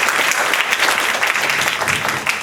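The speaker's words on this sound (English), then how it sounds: "Can I give them another applause?" Sustained applause from the audience at an online entrepreneurs success summit panel in Singapore, dense and steady clapping filling the room for a couple of seconds with no voices over it.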